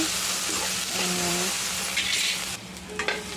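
A spiced food mixture stirred in a sizzling pan, steady frying hiss with a few scraping strokes of the spoon up close, no one speaking.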